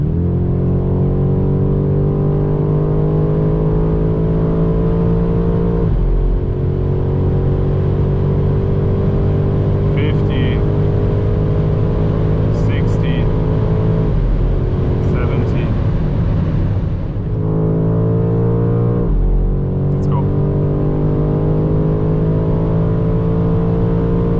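A 2025 BMW M5 with a 727 hp V8 pulls hard on the Autobahn, loud sustained engine drone rising in pitch through gears with brief shift dips, heard from inside the cabin.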